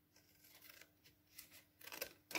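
Scissors snipping through thick cardboard, a quiet series of short crisp cuts and rustles close by, growing slightly busier toward the end, with no speech.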